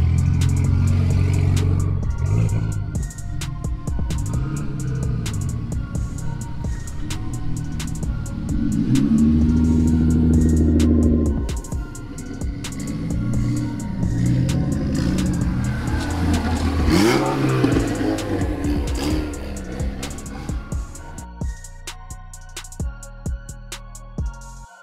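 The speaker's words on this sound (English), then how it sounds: "all of the enthusiast cars are lined up trying to get into the event" Enthusiast import cars queue at the entrance to Helen Import Day 2022 in Helen, Georgia, with nearby engines idling, revving and accelerating past, plus clattering mechanical noise and tonal exhaust notes that rise and fade throughout.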